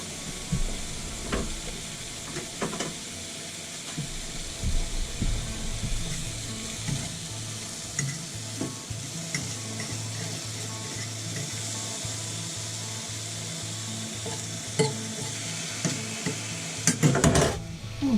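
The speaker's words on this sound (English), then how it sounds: "I'm always cooking my bacon" Bacon sizzles steadily in a frying pan on a home stove, a continuous crackle with occasional clinks and scrapes of a utensil against the pan.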